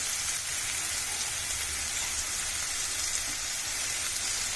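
Crushed garlic frying in a pan, a steady broadband sizzle that holds at an even level throughout, close and alone with no talk.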